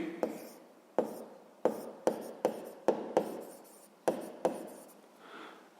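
A pen writes out a sixth-grade maths solution by hand, about nine short crisp strokes on paper at an uneven pace, close and quiet, with no voices.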